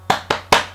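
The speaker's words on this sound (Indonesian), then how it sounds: "Semangat, tepuk semangat." Three sharp hand claps in quick even rhythm, a short 'tepuk semangat' cheer clap, close and crisp with nothing else heard.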